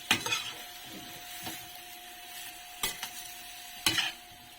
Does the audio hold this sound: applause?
no